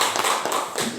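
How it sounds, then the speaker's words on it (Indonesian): Short burst of group applause in a primary teacher-training classroom, dense overlapping hand claps for about a second, fairly loud and close with no talk over it. "Untuk kelompok 1 kita beri tepuk tangan dulu"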